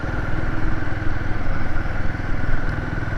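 Royal Enfield Himalayan 450 motorcycle being ridden along a rough road, its engine a steady, close, continuous drone with low throbbing pulses and some rattle, no talking.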